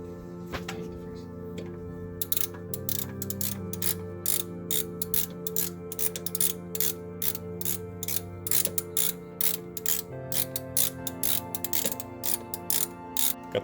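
Rapid ratchet clicks come in short rhythmic bursts as a new oil filter is tightened on a Nissan Pathfinder, close and crisp over a steady background hum.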